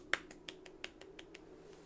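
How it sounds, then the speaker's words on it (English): A lone golf clap: seven soft, evenly spaced claps, the first slightly sharper, each a brief dry tap over a quiet hum with no talk. "the golf clap"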